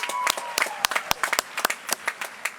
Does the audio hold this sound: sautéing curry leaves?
no